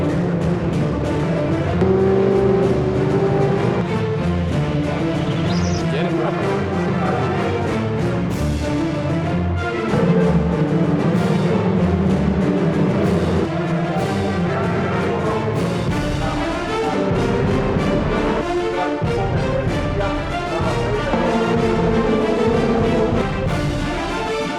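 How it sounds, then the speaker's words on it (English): Ferrari Challenge Coppa Shell race cars roar together at the start of a race at Monza, a dense, continuous engine din with revving surges and cars passing. "So as we go green then, Von Skeldermark getting an absolutely perfect start there"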